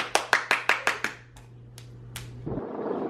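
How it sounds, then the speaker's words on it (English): Six quick, sharp hand claps from a child come in a fast even burst, then a few softer scattered taps follow, and a low rumble of movement closes it out. "Regular clap. Regular"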